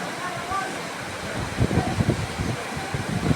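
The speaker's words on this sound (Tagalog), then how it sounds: "Umapaw na kasi yung ilog ng" Floodwater from the overflowing Ilang-Ilang river rushes at night in Noveleta, Cavite, a loud continuous roar of churning water with low surging pulses midway and a voice speaking over it.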